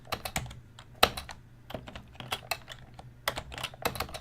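Irregular bursts of keystrokes on a Color Computer keyboard, sharp clicks with small pauses between them and one louder stroke near the middle, close and clear with no voices over them.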